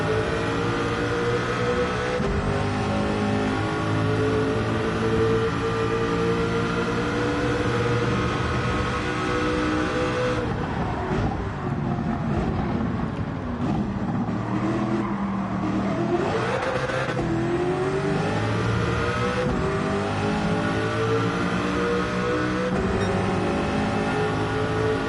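Race cars in a Gran Turismo 7 race, including a Porsche and a Corvette, roar with engines revving up and down continuously, loud and close, with shifting pitch through acceleration and braking.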